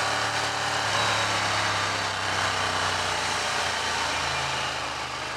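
A 2015 Ducati Diavel's 160 horsepower V-twin engine under way on a countryside ride, a steady loud drone mixed with wind rush throughout, no speech.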